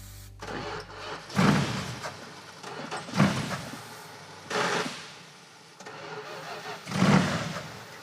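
A car engine on a Pro Street drag car being fed starting fluid cranks and catches in several separate bursts, each a short roar that dies back down, with gaps between attempts.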